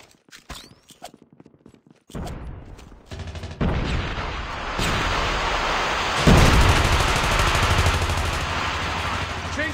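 Gunfire and a frag grenade blast in Call of Duty Mobile multiplayer, with sparse shots at first, then dense, loud, continuous battle noise and a heavy burst near the middle of the fight.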